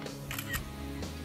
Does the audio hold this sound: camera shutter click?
yes